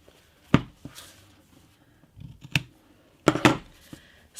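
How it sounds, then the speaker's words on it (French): Large scissors cut notches into fabric for sewing a small pouch, giving several close, crisp snips: single cuts, then a quick cluster of snips near the end, with quiet pauses between. "Hop, j'ai des grands ciseaux"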